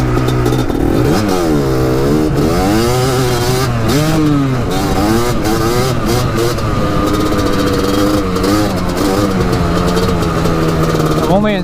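A Kawasaki Tecate 4 250cc two-stroke quad rides along with its engine revving up and down through the gears, a loud, close, raspy buzzing drone that rises and falls in pitch throughout.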